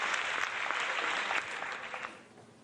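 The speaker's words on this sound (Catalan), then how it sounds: "Volíeu aplaudiments? Doncs aquí els teniu." Scattered applause from a small group of neighbours, moderately close and fairly faint, tapering off over a couple of seconds.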